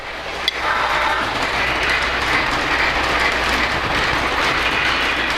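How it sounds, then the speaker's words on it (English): A Polar Express toy train, with a bell flatcar coupled on, rolls through a tunnel, giving a steady, close, continuous rumble and rattle of small wheels on track with no talking. "Let's see if they'll hold together as I take that train now through the tunnel."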